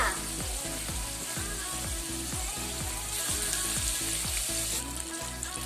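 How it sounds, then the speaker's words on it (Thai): Tilapia fish deep-frying in hot oil, a dense steady crackling sizzle that stays loud and constant throughout, close up and without talk. "พอเรานำปลาไปทอดหมดแล้วนะจ๊ะเดี๋ยวเราก็จะรอให้ปลาเนี่ยทั้งสุกแล้วก็ทั้งเรื่องทั้งกรอบดีเลยจ้า"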